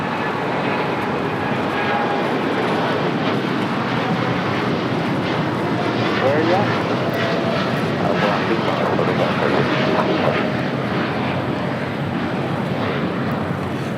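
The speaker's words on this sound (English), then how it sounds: "This is American Airlines Flight 27 taking off to Tokyo, Haneda on the 787-8 Dreamliner" An American Airlines Boeing 787-8 Dreamliner takes off at LAX for Tokyo Haneda. Its engines produce a loud, sustained roar that holds steady with slight surges throughout.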